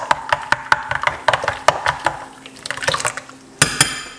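A tablespoon stirring through a glass of juice, with quick rhythmic clinks and sloshing liquid, close and fairly loud, ending in a brief flurry of clatter.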